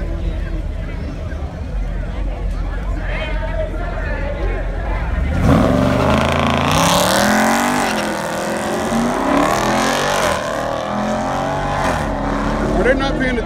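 Donk cars racing at a show-and-shine event: a steady background murmur gives way midway to loud engines roaring up and revving hard, staying close and forceful to the end.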